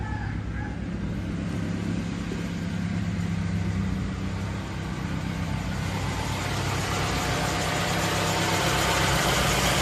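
A car engine idles steadily during carburetor adjustment, giving a continuous close mechanical drone with constant vibration and no clear change in revs for ten seconds.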